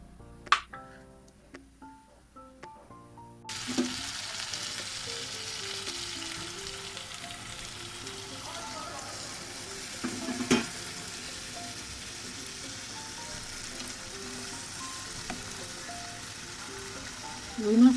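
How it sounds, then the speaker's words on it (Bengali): Rohu fish frying in a pan for a curry with olives, heard as a steady, fairly quiet sizzle that takes over after a few seconds of other tonal sound, with occasional louder spits and pops. "রুই মাছ রান্না করে নিচ্ছি।"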